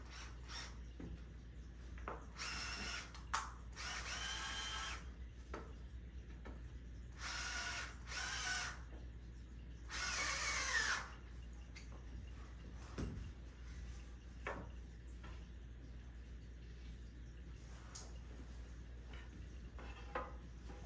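An IKEA power drill drives bolts while a tent is being set up, sounding in several short whirring bursts separated by quiet gaps, fairly close but low in level.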